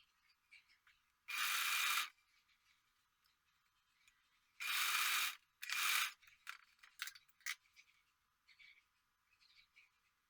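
A sewing machine stitches fabric for a blender cover, running in three short loud bursts of whirring needle action separated by quiet pauses with faint handling clicks.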